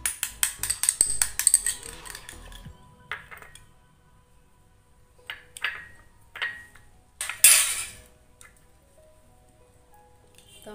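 Turmeric mixture being mixed by hand in a bowl: wet squishing and clinks of the bowl in short bursts, then a few scattered, louder touches and scrapes before falling quiet.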